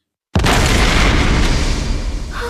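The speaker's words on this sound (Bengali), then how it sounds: "তুমি কোনো বিস্ফোরণের শব্দ পেলে নাকি এটা আমার মনের ভুল?" A single loud explosion bursts in abruptly after a brief silence and rumbles on as a dense, sustained roar that slowly thins, with no voices over it.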